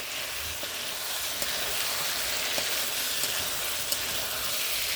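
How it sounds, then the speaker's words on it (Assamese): Lamb meat frying in oil for a lamb curry, giving a steady, dense sizzle with faint stirring clicks throughout, close and moderately loud, with no talking. "আৰু এতিয়া মই মাংসখিনি মিনিমাম 4 পৰা 5 মিনিট টাইম ফ্ৰাই কৰি ল'লোঁ।"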